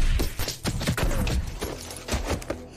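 An exchange of gunfire in an action film scene between special forces and heavily armed terrorists, a rapid string of sharp, close cracks and bursts repeating irregularly throughout with no talk.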